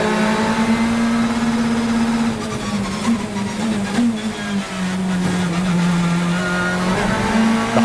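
BTCC touring cars race at Oulton Park, with a Team Virtue Hyundai among them: a steady, loud engine drone that shifts in pitch as the cars pass, plus fainter engines behind it and no talk.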